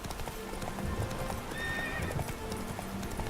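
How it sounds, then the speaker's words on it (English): Horse hooves clip-clop steadily in The Witcher 3 as several horses move about, with a brief whinny, heard over a busy game soundscape with faint background music. "Look at all the horses."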